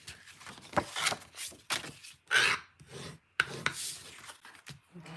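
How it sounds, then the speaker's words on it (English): Bone folder rubbed firmly over paper card bases to burnish the folds, heard as several close, dry scraping strokes in uneven bursts with short pauses between them and no talking. "I will grab my bone folder and just burnish those down carefully."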